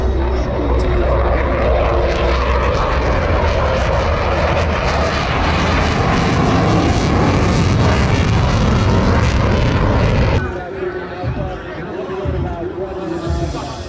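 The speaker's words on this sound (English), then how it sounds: "This, ladies and gentlemen, is the F-35" An F-35 fighter jet passes over the Jones Beach air show on Long Island, its engine a loud sustained roar that builds and then drops off sharply near the end, with crowd chatter and an announcer underneath.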